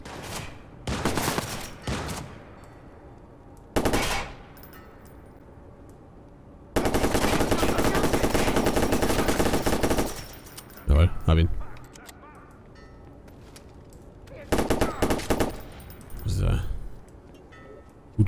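Bursts of enemy gunfire in the video game Watch Dogs, with several short volleys and one long sustained burst of automatic fire, loud and close, separated by quieter gaps.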